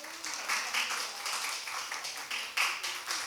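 Audience applause during a Korean church Sunday worship service on Parents' Day, honouring elderly members with gifts and flowers: a steady, moderately loud spread of many hands clapping throughout, with soft room reverberation.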